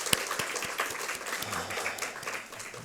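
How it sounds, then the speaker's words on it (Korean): A church congregation at a Sunday morning service claps together in thanksgiving, a brief burst of dense, steady applause with no voices. "우리 찬송 가운데 임하신 하나님께 감사와 영광의 박수 올려드리겠습니다."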